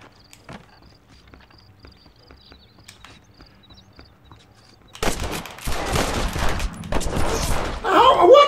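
Gunfire during a Red Dead Redemption shootout match, starting after a quiet stretch as a dense, sustained burst of overlapping shots and game action that grows louder toward the end.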